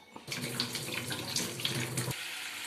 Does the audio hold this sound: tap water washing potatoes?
yes